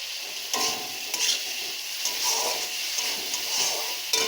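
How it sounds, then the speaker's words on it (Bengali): Fried potatoes with salt and spices are stir-fried in a pan for green banana kofta, a continuous close sizzle broken by repeated scraping stirs. "সুন্দর করে কষিয়ে নেব।"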